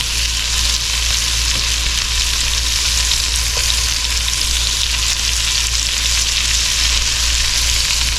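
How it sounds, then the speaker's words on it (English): Onions frying in a pan for a French onion chicken bake, a loud, steady hissing sizzle that runs unbroken throughout with no talking. "Smells good. The onions are starting to cook."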